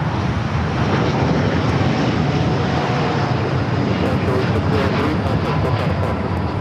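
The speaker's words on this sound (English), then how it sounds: "603 taking off to Santiago, Chile on the 787-8 Dreamliner" A Boeing 787-8 Dreamliner roars down the runway on takeoff at LAX, a dense, loud, sustained jet rumble with broad hiss and no letup across the whole stretch.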